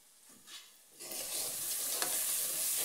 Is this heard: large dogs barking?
no